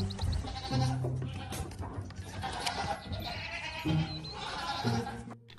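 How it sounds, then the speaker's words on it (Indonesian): Goat bleating, several loud nasal bleats repeating at irregular intervals against a busy, noisy background. "Wow, ini ada kambing teman-teman"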